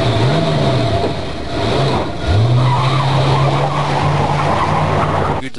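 A car in the Jack Orlando adventure game drives and skids, its tires squealing in long, loud sliding tones, first in short wavering bursts and then in one sustained screech under the engine noise.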